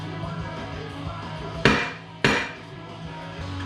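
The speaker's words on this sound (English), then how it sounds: "I was beating on the axle" Two sharp, loud metal hammer strikes on the axle of a Yamaha YFZ 450 ATV during teardown, spaced about half a second apart and each ringing briefly, with a steady hum between and no talking.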